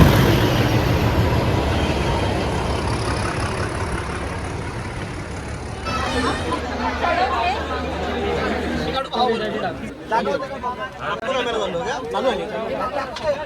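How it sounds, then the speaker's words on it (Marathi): Dense crowd chatter fills a busy, echoing railway platform at Thane station, with many overlapping voices and a low rumbling hum underneath. "ठाणा स्टेशनवरची तुम्ही गर्दी बघू शकता तुफान गर्दी आहे ठाणा स्टेशनला"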